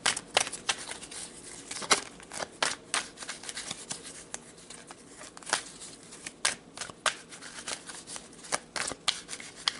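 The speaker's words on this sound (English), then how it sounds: "let's pull some tarot cards to get some more information for you" Tarot cards being shuffled by hand, a quiet, close series of crisp riffling snaps and soft card slaps repeating irregularly throughout, with no talking.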